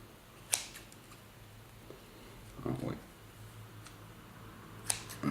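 Scissors snip through white synthetic fly-tying fibres for a pike streamer, with a few sharp, close clicks spread across a quiet background.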